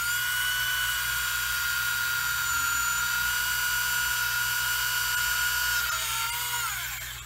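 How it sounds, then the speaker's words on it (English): A small Tamiya electric handy drill whirs steadily while boring into a plastic part of a 1/35 scale Dragon Elefant model kit, a close, continuous high-pitched motor whine that winds down near the end. "this cool little Tamiya drill, electric handy drill, Tamiya craft tools. Works really good. Let me demonstrate."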